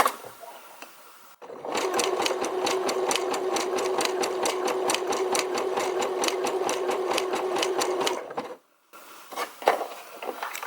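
A sewing machine stitches a Christmas tree appliqué onto a pillowcase in a fast, even, rhythmic chatter lasting about seven seconds, close by, with quieter handling noises before and after.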